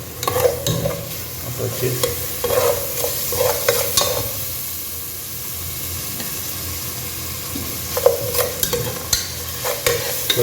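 About 10 ml of mustard oil sizzles in a pan for a Tamil drumstick, potato and mutton kulambu, a steady close frying hiss broken by spoon scrapes and clatters, with a brief spoken voice.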